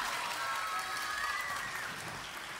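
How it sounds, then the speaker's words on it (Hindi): Studio audience applause during a Ramazan game show with prize giveaways: a steady, even wash of clapping that holds without a break and sits at a moderate distance. "gifts ले आइए और तालियां, बहुत सारी तालियां।"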